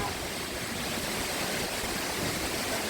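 Steady, dense roar of a waterfall beside a Levada hiking trail in Madeira, loud and continuous broadband rushing water with no talk over it.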